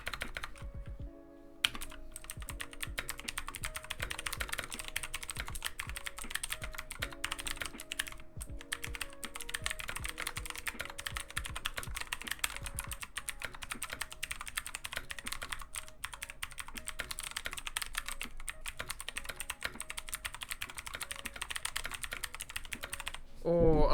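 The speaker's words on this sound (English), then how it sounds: "They sound so nice, too." Steady typing on a computer keyboard fitted with HyperX keycaps, a dense run of close, crisp key clicks lasting throughout with a few brief pauses and occasional heavier thocks like a space bar.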